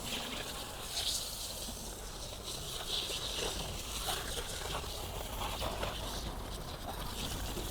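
A pump foam sprayer hisses Yum wheel foam onto a car wheel with a steady, close spraying sound and faint sputters.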